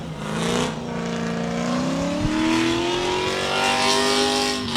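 LS-swapped BMW drift car at Meremere Drift Park, its V8 engine revving hard and sustained with rising pitch, loud and continuous, with a brief tyre squeal mixed in and no talk.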